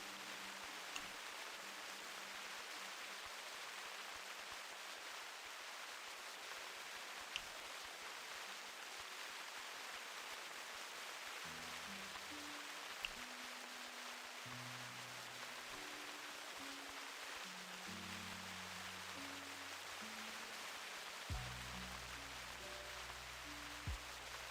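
Rain falls steadily in the hunting game theHunter Classic, a soft, even hiss of drops with faint low tones shifting underneath. The rain runs throughout with no talking.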